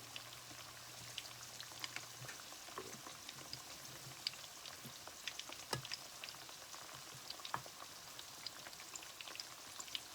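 Chicken fries in oil in a wok with a faint, steady crackle and scattered pops, like light rain. It is quiet and continuous, with no voices.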